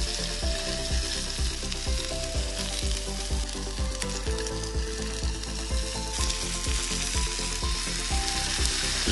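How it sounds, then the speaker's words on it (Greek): Zucchini and mushroom fry in a hot pan with a steady, dense sizzle and crackle, with rhythmic scraping and stirring taps running through it, close and loud, no voices. "Το κολοκύθι και το μανιτάρι, επειδή χρειάζονται λιγότερο χρόνο, θα τελειώσω το μαγείρεμά τους εδώ στο τηγάνι."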